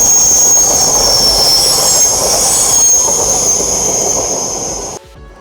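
CrossCountry Class 220 unit 220-011 passing at close range, a loud rush of wheels with a sustained high squeal over the rumble, cutting off abruptly near the end.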